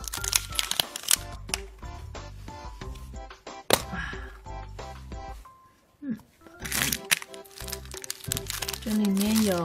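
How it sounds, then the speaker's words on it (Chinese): Kinder surprise egg foil wrapper being unwrapped, with bursts of close crinkling and crackling foil in between and under a person talking. "这个蛋比较好拆开。"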